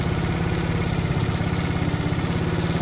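A Cerro C70 70cc motorcycle engine idles steadily close by, a rapid even putter with a low thrumming pulse that holds at a constant level throughout.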